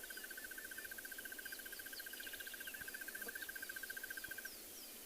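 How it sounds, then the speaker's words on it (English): A crested barbet repeats a clear, evenly pulsed whistled note in a long steady trill outdoors, with faint insect chirps and distant calls in the background. "And that's a crested barbet."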